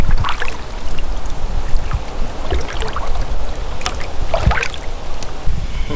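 A boat is paddled across a lake on a tench fishing trip, giving repeated close splashes and swishing water strokes in an uneven rhythm.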